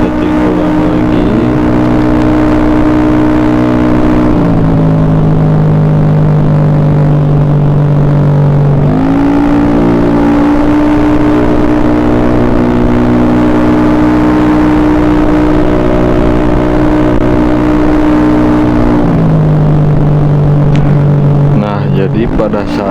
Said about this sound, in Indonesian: Jadi ini motor baru beres dan tinggal setting ulang lagi.